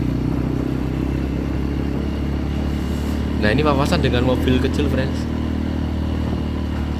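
A Honda Beat automatic scooter's engine hums steadily while climbing uphill on a mountain road, a constant close drone with someone talking briefly over it midway.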